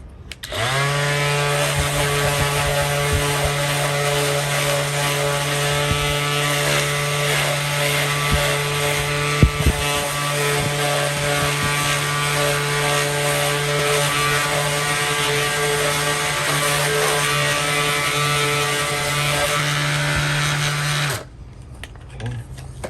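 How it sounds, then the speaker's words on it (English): An orbital sander with 800 grit sandpaper sanding plastic on an old Schauer Model B4612 battery charger, a steady loud whirring hum that runs unbroken for about twenty seconds, then stops. "I'm just gonna quickly sand the plastic"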